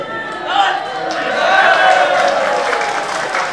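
Audience at an Islamic sermon by KH Anwar Zahid applauding in a hall, a steady wash of clapping and crowd noise that swells and holds for several seconds.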